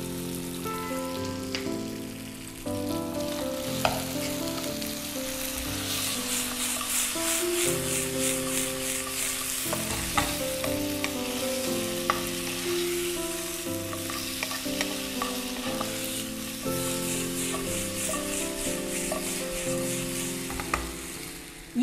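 Oil sizzles steadily in a pan for chicken wings, a dense frying crackle that runs continuously, punctuated by occasional clinks and stirring scrapes, with a faint melodic backing throughout.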